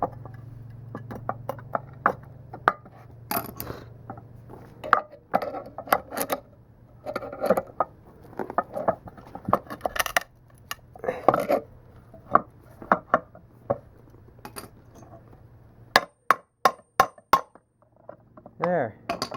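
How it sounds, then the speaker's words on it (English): A wrench clicks and clinks against metal in irregular bursts while cranking a 90cc go-kart engine during teardown, close and fairly quiet, with a low steady hum underneath. "Ideally, you'd be using a bigger wrench than this to crank this thing."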